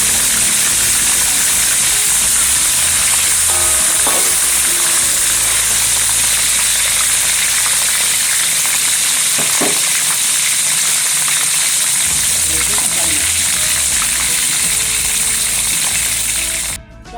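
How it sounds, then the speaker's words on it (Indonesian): Loud, continuous sizzling of chicken frying in hot oil, a dense crackling hiss that holds steady throughout with faint clinks underneath. "terus ayam kita goreng"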